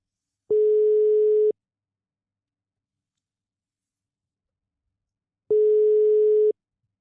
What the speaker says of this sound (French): On va prendre notre téléphone tout de suite et on va contacter le frère Abdelkarim